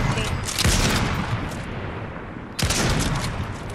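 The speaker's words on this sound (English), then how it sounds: "Oh, she's sniping." Gunfire cracks in a Fortnite match as two sharp shots land about two seconds apart, each followed by a dense rumbling tail under continuous game noise, with voices faintly present.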